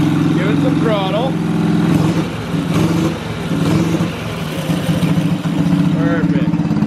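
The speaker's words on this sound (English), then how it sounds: "So now if I were to start it up, give it some throttle." An old Ski-Doo Mini-Z snowmobile that sat abandoned for years runs close by, its small engine droning with throttle blips and revs. Whistling and a voice break in over the engine now and then.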